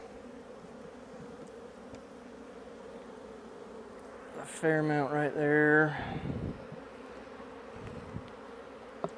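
Honey bees buzz steadily throughout during a fall mite wash at an open hive, with a voice speaking near the middle over the continuous hum.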